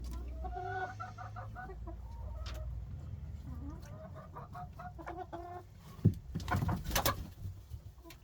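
A rooster crows among a flock of chickens in a backyard coop with a broody hen sitting on eggs, its clucking and cackling fairly close amid soft hen murmurs.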